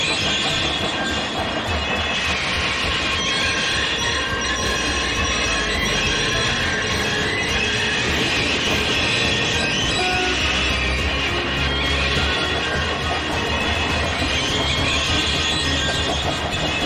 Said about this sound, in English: The train was heavy and hard to stop, but they managed it just in time.